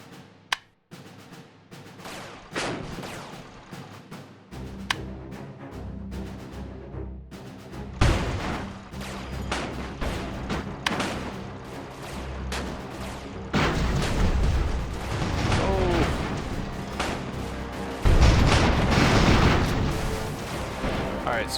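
Two heavy tanks in the airship battle game Airships: Conquer the Skies fire repeatedly, making booms and blasts at irregular intervals over a continuous bed of battle noise that grows louder and denser toward the end.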